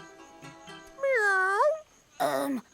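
A human voice imitates a cat's meow, a drawn-out rising and falling call followed by a second shorter meow, with quiet sounds between.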